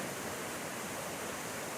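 A big creek rushes steadily beside a mountain trail leading to Mouse Creek Falls, a loud continuous broadband wash of water with no break and no voices.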